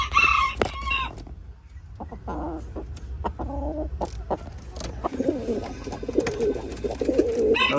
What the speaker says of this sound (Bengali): এটা হচ্ছে আমাদের ঘরের দেশি মোরগ,